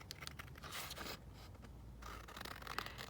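Scissors cut out a paper label close by, with quiet snipping and scraping strokes in short bursts and a brief pause midway.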